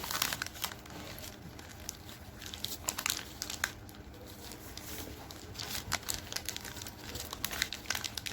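Paper being folded and pressed into butterfly wings from reused waste paper, giving soft continuous crinkling and rustling with small crisp creases, close and fairly quiet throughout.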